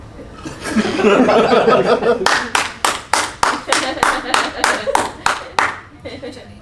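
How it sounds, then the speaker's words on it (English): An audience at an improvised comedy show in a festival setting laughs, then breaks into a run of about a dozen sharp, rhythmic clapping bursts, fairly close and loud, ending in a quieter tail. "Clapping the acting."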